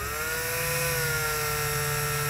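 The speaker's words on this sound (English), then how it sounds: "We're going to take a very, very small pilot hole and drill a hole" Power drill boring a very small pilot hole through the back of a plastic instrument panel in a 2023 Ford, a steady continuous whine held close and loud for the whole stretch with no pauses.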